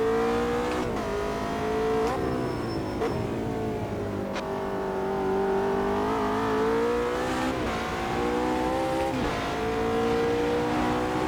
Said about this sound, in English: you can hear that wet track